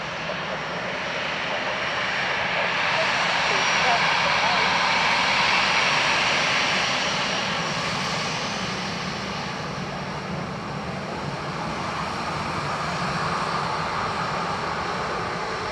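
Ryanair jet landing at Dublin Airport, a broad steady engine roar that swells and then eases over about fifteen seconds, heard from a distance with faint radio chatter beneath.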